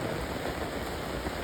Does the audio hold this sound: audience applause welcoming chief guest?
no